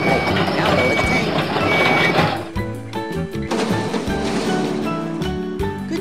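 A garbage truck lowers its tank while reversing beeps sound, with loud mechanical and hydraulic noise over a steady alarm and a shift in the machinery partway through.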